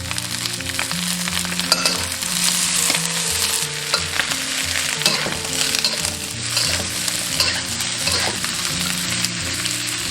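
Beef brisket stir-fried in a wok with shallots, ginger, star anise, bay leaves, cinnamon, dried chillies and a little dried tangerine peel, giving a steady loud sizzle with repeated scraping and tossing of the spatula against the metal throughout.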